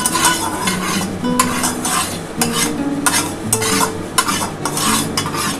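Three beaten eggs fry in oil in a wok for egg chowmein, giving a close, busy sizzle under repeated metallic scrapes and clinks of a spatula stirring against the pan.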